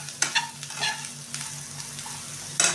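Vegetable stalks lightly fried in a pan give a soft continuous sizzle broken by a few scraping stirs, close and fairly quiet, over a faint steady hum.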